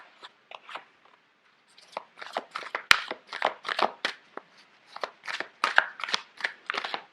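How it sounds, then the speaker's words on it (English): Close, crisp card shuffling in uneven bursts, papery slaps and riffles with brief gaps, one sharp click partway through, no talking. "It's hard to shuffle."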